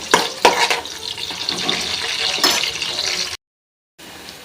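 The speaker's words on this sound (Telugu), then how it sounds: "ఇప్పుడు కట్ చేసుకున్న ఆనియన్స్, చిల్లీ ఫ్లేక్స్ వేసేసుకొని ఫ్రై చేసుకోవాలండి." Chopped onions and chilli flakes sizzle in hot oil for boti curry, a steady, fairly loud broadband crackle with a few sharper pops near the start, then a brief silence and a quieter return of the sizzle.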